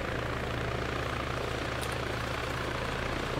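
A helicopter flying in the video game Arma 3, a steady, dense rotor and engine roar that fills the whole stretch with no pauses, heard from close by and without talk.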